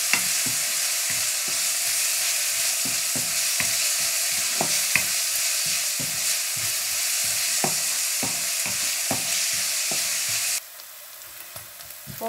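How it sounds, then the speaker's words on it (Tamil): Onions fry in a pan for chicken fried rice, a steady close sizzle broken by regular scraping stirs, ending with a sudden drop to quieter frying. "இப்போ வெங்காயம் கொஞ்சம் லேசாக பொரிஞ்சிட்டுது."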